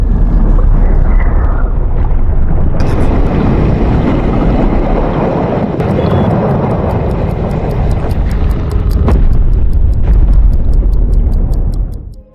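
Loud, heavy underwater rumble and roar as two torpedoes are fired at a sea monster in the film Kraken, a dense sustained blast with rising hiss and faint ticking, ending in a quick fade.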